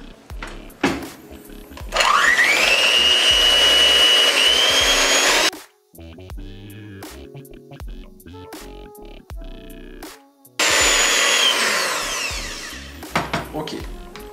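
Electric hand mixer beating flour into Haitian cake batter, whining loudly in two long bursts with a quieter stretch of clatter and handling noises between them.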